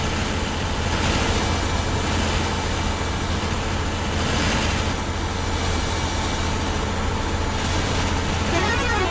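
Engine of a passing Vera bus on the highway between Nellore and Bengaluru, a steady loud broadband roar and rumble holding at one level throughout, close and continuous.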